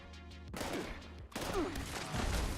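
Enemy gunfire in a video game, fired at the player: quiet bursts of rapid shots crackling in two clusters, faint and somewhat distant, with no talking.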